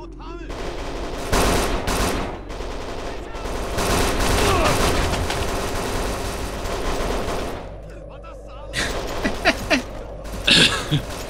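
Rapid in-game gunfire from Kane and Lynch 2, with bursts of automatic weapons and scattered single shots rattling nearly continuously, loud and close, with mechanical clicks and a few isolated shots near the end.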